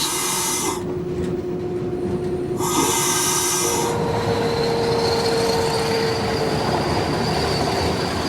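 A Portuguese Railways class 1800 locomotive-hauled train rumbling past loudly, with rail roar, high wheel squeal and a sustained tonal whine, heard alone without speech.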